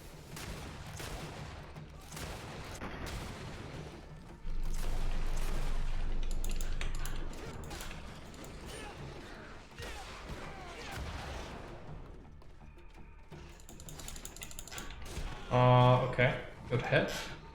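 Gunshots in the Greedfall video game, fired during combat against a heavily armored enemy: scattered sharp reports and heavy impacts, mixed with voices, clanking and a brief loud mechanical burst near the end.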